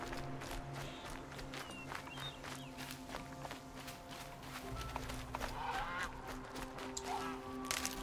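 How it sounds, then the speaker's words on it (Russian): A goose honks in the Horizon Zero Dawn video game, short calls under footsteps and a busy wilderness ambience, fairly quiet and spread across several seconds. "гусь. Хорошо летает."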